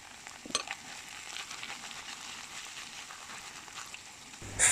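Sour cream is stirred into frying beef stroganoff in a pan, giving a soft, steady sizzle with a light utensil tap early on and a louder scrape right at the end.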